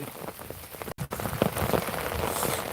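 Heavy rain pours steadily in Tirunelveli, a dense, close hiss of drops hitting surfaces with a brief cut near the one-second mark.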